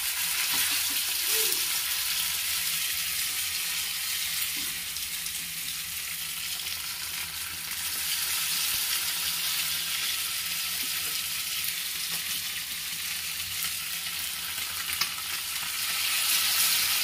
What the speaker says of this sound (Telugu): గ్యాస్ని హై ఫ్లేమ్లో పెట్టేసుకొని ఇలా కాల్చుకోవాలండి.